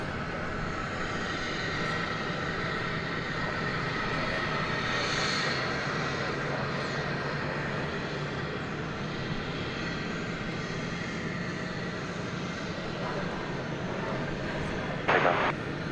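A Boeing Dreamliner, American Flight 1174, rolling down runway 18 left at DFW Airport on takeoff: a steady, broad jet-engine roar that holds for the whole stretch, with a brief knock near the end and a faint voice at times.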